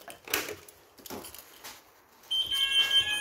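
A fire alarm sounder on a sounder base, activated during a fire alarm system test, switches on late and holds a steady, loud electronic tone to the end, after a few soft knocks and rustles.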